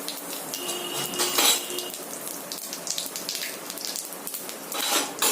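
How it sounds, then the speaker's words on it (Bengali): Bay leaves and cumin seeds sizzle in hot oil for a fish curry, a crackling, spattering fry with a faint clink of metal utensils, close and fairly quiet. "এবার আমি ওতে তেজপাতা জিরে দিয়ে দেবো ফোড়নে"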